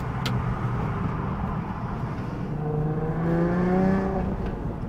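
A 2000 VW New Beetle RSI engine drones steadily and rises in pitch as the car accelerates, with a rough, continuous rumble heard from inside the car and no talking.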